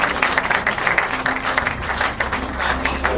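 An audience applauding, a dense, steady wash of clapping that holds evenly at full strength throughout, with no talk over it.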